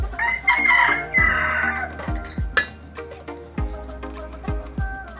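Chickens cluck repeatedly near a feeding area where young stags are raised on cereal and oatmeal, with short pecking knocks and scattered calls in an irregular rhythm.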